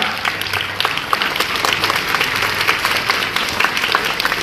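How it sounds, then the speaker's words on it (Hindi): A school audience claps steadily at a Republic Day celebration, a loud, continuous round of applause with a faint murmur of voices underneath. "जोर से ताली में"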